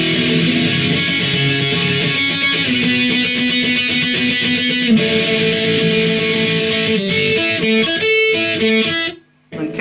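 Electric guitar playing the chorus B backing of Blink 182's Wasting Time, a continuous run of strummed chords changing every bar or so, loud and alone before stopping abruptly at the end.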